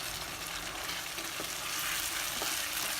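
Mutton liver masala gravy bubbles and sizzles steadily in a pan as it is stirred, a continuous close frying hiss with faint scraping, no voices.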